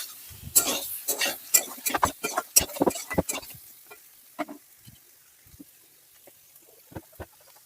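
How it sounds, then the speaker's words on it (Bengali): Cut potatoes are stirred in a frying pan for a fasting-day spicy potato dish, giving close, irregular scraping and clattering strokes over a faint sizzle, thinning out toward the end. "আমি দিয়ে দিচ্ছি কেটে রাখা আলুগুলো আলুগুলো দেওয়ার পর আমি ভালোভাবে নেড়ে চেড়ে মিশিয়ে নিচ্ছি"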